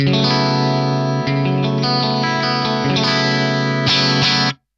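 Sustained, ringing clean electric guitar chords through an amp and cab model, with a Crazy Tube Circuits Splash reverb pedal placed after them, play alone, bright and full with a shimmering, slightly chorused tone before fading out.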